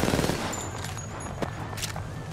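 Automatic weapon fire in an Apex Legends match, a loud close burst of rapid shots at the start with a few sharper cracks later, under game noise.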